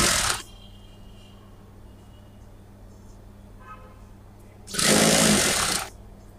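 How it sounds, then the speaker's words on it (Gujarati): Two short bursts of a sewing machine stitching a straight seam on a salwar, one at the start and one near the end, with quiet room tone between. "હવે આપણે આને સીધી સિલાઈ મારી લેવાની એકદમ સીધી"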